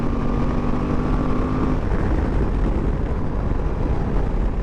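A 2023 Suzuki V-Strom 1050DE adventure motorcycle in fifth gear at full throttle, its engine drone buried in a loud, constant rush of wind roar.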